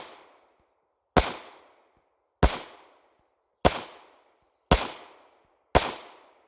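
Gunshots fired into a bullet trap, full metal jacket rounds followed by hollow points: five loud, sharp cracks spaced evenly about a second apart, each trailing off in a ringing decay, with no talking.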